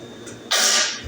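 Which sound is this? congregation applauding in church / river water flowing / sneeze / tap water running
sneeze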